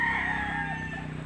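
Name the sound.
chicken clucking in a yard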